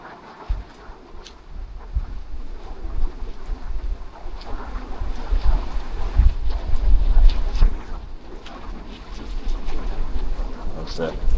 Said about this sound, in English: It's very windy, that's why I couldn't bring an umbrella.